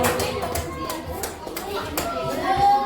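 Scattered applause in a school classroom, children clapping for a group of pupils after their presentation, uneven hand claps mixed with chatter and voices throughout.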